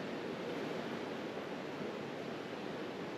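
Dinky Creek pours into the North Fork of the Kings River in the southern Sierra of California, a steady broadband rushing of water heard close and continuous with no voices.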